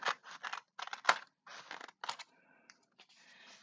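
Scissors snip through scrapbooking paper in quick, close, crisp cuts, several rhythmic snips followed by a softer rustle, quiet and alone.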